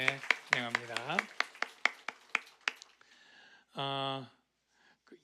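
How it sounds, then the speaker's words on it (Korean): Steady rhythmic hand claps from a church congregation welcoming new members at a Sunday service, sharp and evenly spaced for about three seconds over a voice, followed by a brief sustained vocal tone. "박수하겠습니다"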